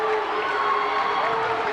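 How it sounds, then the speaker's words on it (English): Crowd at a 1993 high school basketball game between Wapato and Zillah reacts loudly after an offensive charging foul call, a steady roar of voices and shouts filling the gym throughout. "Zillah crowd does not like that at all."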